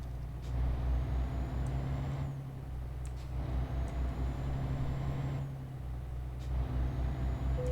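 A MAN TGX truck in Euro Truck Simulator 2 drones along with a steady low engine hum, broken by periodic gear shifts and faint air-brake hisses, without any voices.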